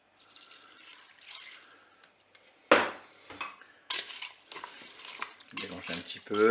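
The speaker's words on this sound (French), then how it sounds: "Je vais rajouter 100 ml d'eau" Water is poured over halved spaghetti in a Cookeo multicooker pot, a close splashing and trickling into the pan with light clinks of utensils and pot, broken by short pauses.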